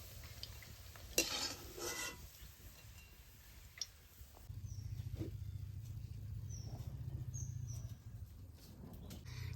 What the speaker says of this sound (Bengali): বড়াগুলিকে আমি উল্টে পাল্টে লাল লাল করে ভেজে নেব